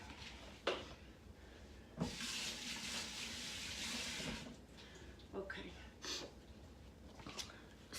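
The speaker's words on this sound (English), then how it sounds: "I'm just gonna open it up and give my hands a wash before I get in there." Running tap water at a kitchen sink while hands are washed, a soft hissing splash in a quiet room with scattered clicks and knocks around it.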